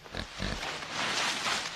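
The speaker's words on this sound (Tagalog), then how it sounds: "Bakit ang laki ng baboy na to?" A large pig grunts and snorts in two rough bursts near the start, followed by a continuous coarse, breathy rumble that carries through to the end.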